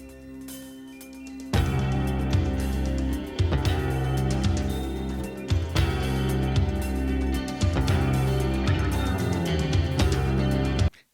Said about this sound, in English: the first thing you'll notice is the drums as they come sweeping in.